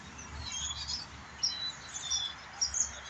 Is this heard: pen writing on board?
no